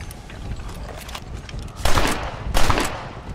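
Gunfire in Red Dead Redemption Undead Nightmare, two loud booming shots about a second apart over a dense rumbling, noisy game background.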